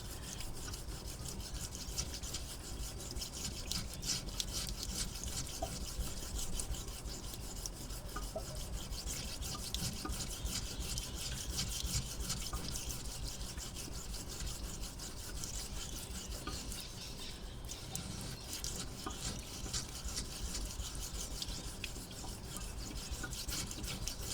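An IKEA kitchen knife stroked steadily across a fine 15,000-grit whetstone, giving a continuous soft rasping scrape of repeated polishing passes, close and moderately quiet, with no talk.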